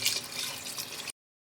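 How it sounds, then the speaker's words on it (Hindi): Water pours from a container into a pot of chicken and potatoes as a close, splashy, continuous stream that stops abruptly after about a second, leaving silence. "अब इसमें हम 1 लीटर पानी डाल देंगे"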